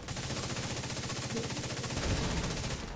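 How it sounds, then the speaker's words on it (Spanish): Rapid automatic gunfire from a turret in The Division 2, a steady rattling burst that runs loud and continuous throughout, with no talking. "La torreta está pegando tiros, como estáis viendo"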